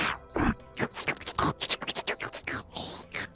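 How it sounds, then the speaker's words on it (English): Wet slurping and sucking noises like those Nunu the Teletubbies vacuum makes, a rapid irregular string of short squelchy bursts, fairly close and alone. "he doesn't talk and instead just makes slurping, sucking sounds like this"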